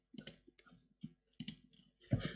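A computer keyboard gives a few separate, sharp key clicks at an uneven pace with short pauses between them, ending in a slightly louder cluster of clicks. The sound is close and quiet, with no voices.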